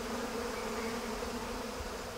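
Dense, angry swarm of bees at a hive, a continuous close buzzing drone with a steady pitched hum and no pauses, heard alone.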